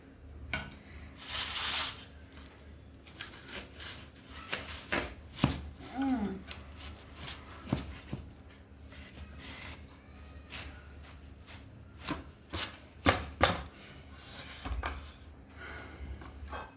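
A knife cuts into a small watermelon, giving a run of irregular crunching slices and thuds with pauses between, close by, plus some rustling handling noise.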